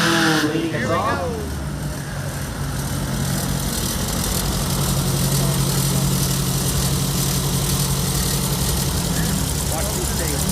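Volkswagen Street Class dune buggy engines idle and rumble steadily at a drag strip, a loud continuous mid-pitched drone with a rising rev near the start, while an announcer talks over it.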